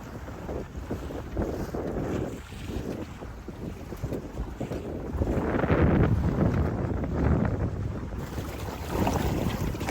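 A sailboat hull pushing upwind through choppy water in the North Channel with rushing splashes and heavy wind buffeting the microphone, swelling louder midway.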